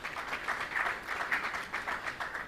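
A conference audience at an African Development Bank special session gives a round of applause, a soft, steady wash of many hands clapping at a distance, pulsing slightly in intensity throughout.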